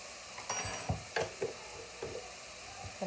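Minced garlic stirred through a hot pan for deer or beef chili, sizzling steadily with a few soft scrapes and clacks of the spoon against the pan, close and moderately quiet.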